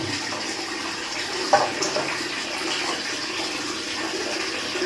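Tap water runs steadily while someone washes their face, a broad even hiss with a brief louder splash partway through.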